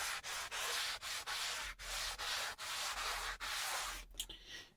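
A sanding block is worked by hand across a wooden guitar body, making steady back-and-forth rasping strokes about two per second, close and clear, that end with a few light handling knocks.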